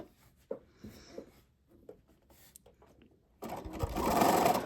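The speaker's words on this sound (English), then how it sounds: "we're just going to do a straight stitch because we don't need anything fancy with this" A sewing machine runs a plain straight stitch after a quiet stretch of small handling noises, then whirs steadily and close for the final second or so, growing louder.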